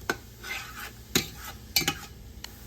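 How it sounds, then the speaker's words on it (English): Onions stirred in melted butter in a pot, with close scraping and clinking of a utensil against the metal in irregular strokes over a soft sizzle. "I'm just going to stir this around until it starts to caramelize and the onions look translucent"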